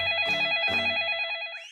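A telephone rings in a steady electronic trill of two short bursts, fairly loud and clear against a quiet background, with no talking.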